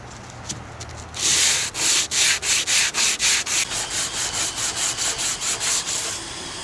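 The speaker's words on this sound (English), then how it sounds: "So this has to be sanded more until this edge here is gone and we have just a straight edge of the fiberglass." Sandpaper is worked by hand across the edge of a fiberglass rear fender: about seventeen brisk, rhythmic back-and-forth rasping strokes, loud and close, fading slightly toward the end.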